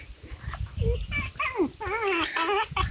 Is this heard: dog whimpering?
yes